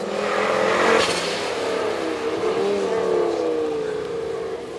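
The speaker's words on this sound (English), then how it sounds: "Well, here comes the Ferrari." A black Ferrari racing past at the Alford Speedfest, its engine note rising then sliding down in pitch as it passes, loud and fairly close, with a voice talking over it.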